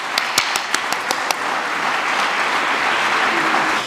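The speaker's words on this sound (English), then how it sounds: "Warm applause." Applause from the audience at a scholarship awards ceremony: a few distinct claps at first, then a dense, steady wash of clapping that carries on at moderate volume.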